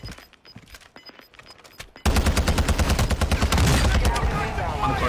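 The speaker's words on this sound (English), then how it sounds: "Friendly airstrike on the way." A friendly airstrike in a video game shoots sustained loud gunfire, a dense rapid barrage that erupts suddenly after a quieter opening of scattered shots and carries on to the end.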